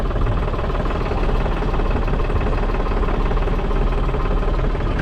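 A tractor engine runs steadily throughout, a dense, loud, continuous mechanical rumble with a low knocking drone at constant idle, heard alone without talk, in a field setting.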